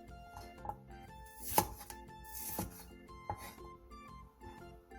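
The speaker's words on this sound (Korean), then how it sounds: "통마늘 10개를 길게 반으로 잘라주세요" A kitchen knife slicing whole garlic cloves lengthwise on a cutting board, producing a series of crisp, close chopping knocks at an uneven pace, one sharper and louder than the rest, with no talking.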